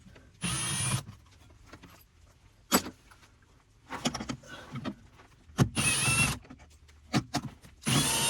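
Power driver working screws loose on the battery bus bars of a school bus conversion, several short whirring bursts separated by quieter gaps, close and fairly loud with no talk.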